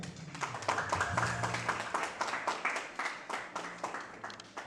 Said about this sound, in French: Vous êtes priés de l'applaudir